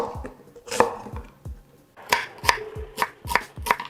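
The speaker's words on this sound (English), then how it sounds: "then cut down through the onion at similar intervals" A knife chops through an onion on a board in sharp, close strikes, a few scattered cuts at first and then a quicker regular run of about six chops, with no talking.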